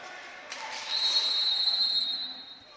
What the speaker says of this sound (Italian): Viene fischiato un fallo alla difesa del Trissino